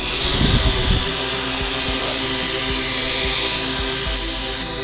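The propellers of an S70W quadcopter drone, a Phantom-style clone, whir steadily and loudly at takeoff in a dense, constant buzz heard close by with no talk.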